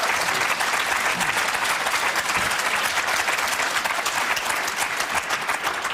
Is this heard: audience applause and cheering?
yes